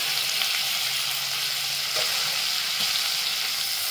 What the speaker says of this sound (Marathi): परतलाय कांदा चांगला, आता त्याच्यात टोमॅटो टाकते।